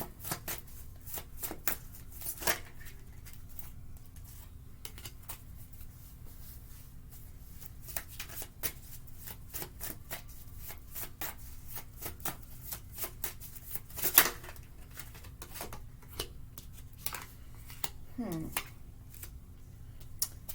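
Soft, continuous tarot card shuffling with light riffles and taps over about twenty seconds, close and quiet, with occasional sharper clicks.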